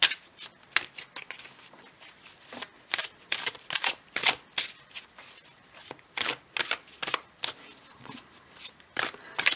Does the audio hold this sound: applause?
no